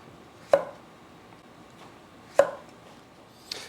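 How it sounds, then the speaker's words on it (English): A knife cutting zucchini into thick slices on a board, three distinct sharp chops spaced a couple of seconds apart, close and clean against a quiet background. "now I want to cut it into slices, about 3/4 of an inch thick"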